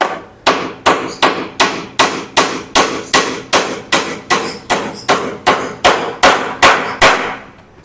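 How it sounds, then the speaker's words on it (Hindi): A hammer drives a nail into a wooden table, striking about sixteen loud, sharp, evenly spaced blows in a steady rhythm, close and with no talk. "कील लेने के बाद इसके सेंटर में मैंने कील ठोक दी।"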